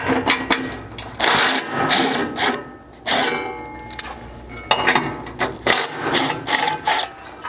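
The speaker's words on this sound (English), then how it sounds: "that will again just require that 13mm socket on the two bolts here, as well as the two at the rear of this skid" A socket wrench ratchets on 13mm skid plate bolts of a Chevy Colorado, giving bursts of rapid close clicking with brief pauses and metallic handling noise between runs, and no talking.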